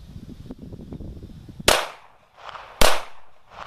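Two sharp handgun shots from a CZ 82 pistol ring out outdoors, each with a decaying echo, after a stretch of faint rustling and clicks.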